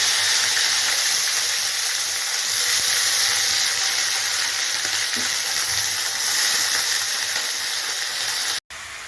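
Spring onions and small potatoes frying in fish oil, a loud steady sizzle and hiss close up that runs without pause and cuts off briefly near the end.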